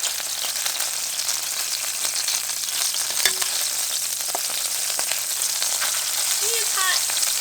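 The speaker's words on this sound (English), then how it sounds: "Once that's hot, we're putting our chicken down" Chicken browning in a hot pan for chicken saltimbocca, frying with a steady, dense sizzle and crackle throughout, with a few sharper pops near the middle.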